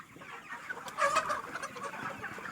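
Foraging backyard hens give a run of close clucks that peaks in a louder burst near the middle. No voices are heard.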